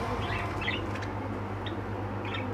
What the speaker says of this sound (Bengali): তো দেখে নাও বদ্রি পাখি